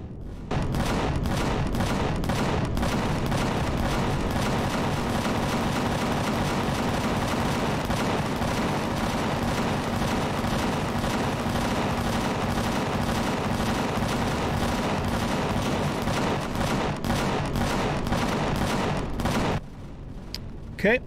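Plasma guns mounted on a vehicle port fire in the space survival game Empyrion Galactic Survival, a dense, continuous barrage of loud rapid blasts and booms lasting about twenty seconds before cutting out near the end.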